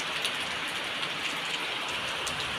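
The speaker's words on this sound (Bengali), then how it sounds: "যত বেলা হচ্ছে ততই যেন জোরে জোরে বৃষ্টিটা আরও হচ্ছে" Heavy rain pours down in a dense, even hiss of drops striking surfaces, steady and unbroken throughout, with no voices.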